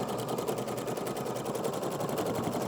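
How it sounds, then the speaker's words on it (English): A sewing machine runs a three-step zigzag stitch, its needle hammering in a fast, even, continuous rhythm close up, loud and steady with no voices. "I'm going to be using a 3-step zigzag, which most machines have"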